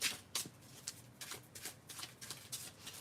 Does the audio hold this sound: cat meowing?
no